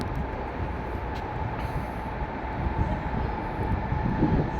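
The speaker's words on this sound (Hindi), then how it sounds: "तो आई थिंक हमारी मदीना मुनव्वरा वाली ट्रेन आ रही है।" A high-speed train rumbles into the Jeddah station on the Makkah–Madinah line, a steady low drone with faint hiss and brake sounds in a large station hall, no talk.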